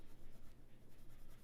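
Pencil drawing on paper while shading a cartoon fairy's leg, a steady close scratching and rubbing of graphite strokes running continuously without pause.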